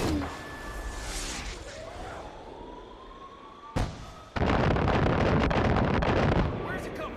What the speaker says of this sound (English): Use the mortar!